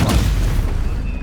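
In Hogwarts Legacy, casting the Stupefy spell triggers a deep booming impact, one short heavy blast with a low rumbling tail, loud and close.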